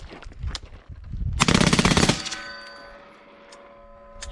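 A full-auto machine gun fires outdoors in one loud rapid burst of about a second, followed by metallic ringing and a fading tone. Faint clanks are heard before and after.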